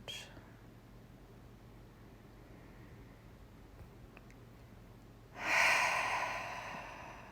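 A breath during a yin yoga class in downward-facing dog, faint and barely above the room hiss for most of the stretch, then a clear, moderately loud breath near the end that fades slowly.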